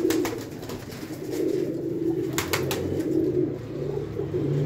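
Flying pigeons at a breeder's loft coo steadily in a low, continuous throaty murmur, several birds overlapping at close range with no voices.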